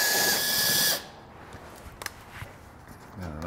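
A power tool with a 7mm socket backs out bracket bolts while fitting a tow bar base plate to a 2020 Buick Envision: a loud one-second whir, then quiet clinks and handling noises.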